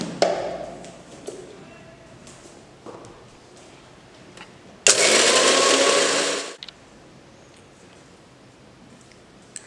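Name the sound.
mixer grinder grinding roasted gram and peanuts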